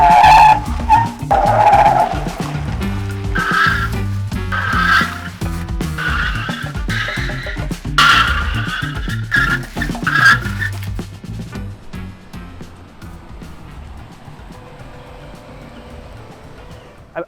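A stock Ford F-150 pickup brakes hard from 60 mph to a stop, tires squealing and skidding in repeated loud bursts before fading to a quiet idle; no talk.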